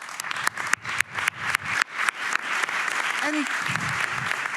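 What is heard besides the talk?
audience applause for the project teams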